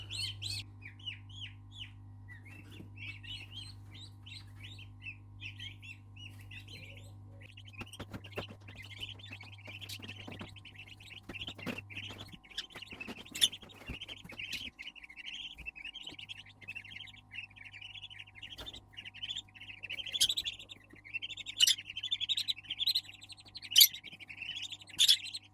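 Two-day-old turkey chicks give steady high, thin peeping chirps throughout, clustered and continuous, over a constant low electrical hum from a brooder setting, growing a little louder and busier toward the end.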